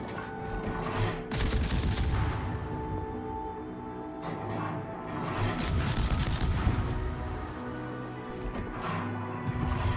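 Naval guns in a warship video game fire salvo after salvo at an aircraft carrier, loud dense booms and crackling volleys filling the whole stretch with little pause.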